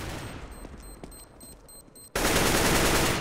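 Gunfire in the video game CS:GO: a few sharp, scattered shots ring out, then a sudden, loud, sustained burst of fire fills the final second.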